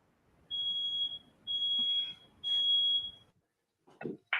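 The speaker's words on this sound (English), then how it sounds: "Fire alarm." Smoke alarm beeping in a pool hall during an eight-ball match: three long, shrill, piercing tones in an even rhythm, clear and fairly near, followed by brief scattered noises.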